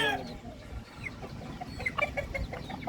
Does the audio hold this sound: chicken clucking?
yes